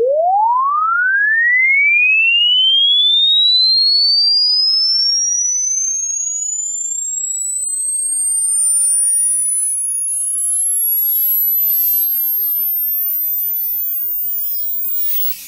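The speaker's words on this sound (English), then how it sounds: "I was curious to see how this system deals with the frequency sweep" A pure sine tone sweeps steadily upward from low to very high pitch over about fifteen seconds, fed through a Zoom R20 recorder's audio input, with faint harsh distortion creeping in near the top.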